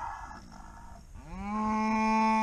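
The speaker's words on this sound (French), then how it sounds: "c'est une race de vache à viande, dite allaitante, qui est originaire du Limousin" A Limousin beef cow, a suckler breed, lets out one long, loud, close moo that rises and then holds steady, after a second of quiet farm background.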